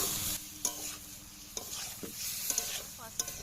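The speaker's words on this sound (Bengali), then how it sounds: "সামান্য জল দিয়ে আবারও একটু নাড়াচাড়া করে নেব।" Potatoes and torukola stir-fried in a pan with a little water, a spoon scraping and clinking at intervals over a soft, continuous sizzle, close and moderately quiet.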